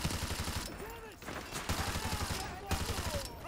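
Rapid bursts from an RPD machine gun in Modern Warfare 2 Campaign Remastered, rattling fire repeated in several bursts amid game noise, with a voice heard briefly.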